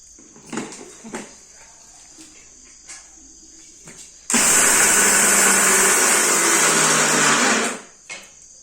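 A kitchen mixer grinder whirs loudly for about three seconds as it grinds peanuts and green chillies for a fasting-day pithla, starting and stopping abruptly, with faint clinks and handling noises before and after.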